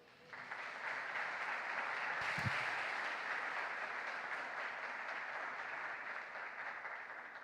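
A church congregation claps together, moderately distant and steady, starting softly and then holding an even roomy wash of applause with a brief low thump near the middle.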